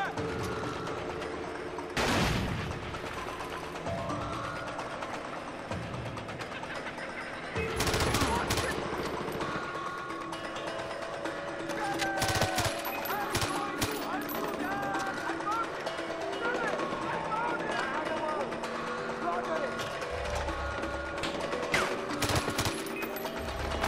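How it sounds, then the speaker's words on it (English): Gunfire in Far Cry 4 during the Battle of King's Bridge: scattered loud shots and bursts, including sharp isolated cracks, over a busy game soundscape with mechanical noises. "Shooting."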